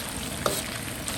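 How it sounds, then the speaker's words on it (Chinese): Chili bean paste stir-fried with chili and Sichuan pepper in a wok outdoors, a steady close sizzle and frying hiss with a brief clink of the stirring utensil partway through. "一勺豆瓣醬，就下去加辣椒、花椒， 我炒一下。"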